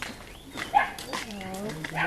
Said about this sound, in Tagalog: Bakit sila tumatahol?